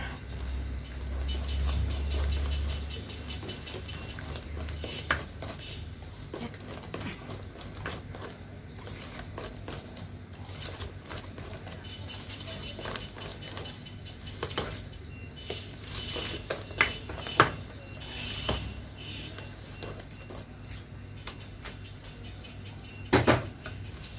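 A wire whisk beats butter in a bowl for carrot cake, producing soft, continuous scraping and light clinks close by, with a few sharper knocks against the bowl near the end.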